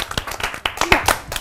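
Applause on an Arabic children's TV prize-draw show: a short burst of sharp, uneven hand claps from a few people, close and loud for about a second and a half.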